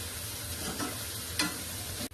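Onion, ginger and garlic frying in refined oil for a Punjabi mustard-greens dish give a soft, steady sizzle with a couple of brief stirring scrapes, quiet and with no talk.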